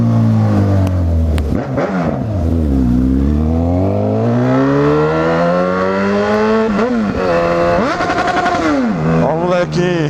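A nearby engine revved hard by a neighbourhood kid, with loud repeated sweeping rises and falls in pitch as the throttle is blipped and held, then snapped again.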